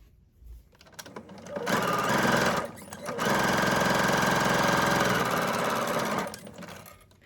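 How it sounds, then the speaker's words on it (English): Sewing machine stitching a fabric rectangle face mask, a loud steady mechanical whirr in two sustained runs separated by a brief pause, close up and alone. "We can then stitch this down just with like 1/8 of an inch stitch."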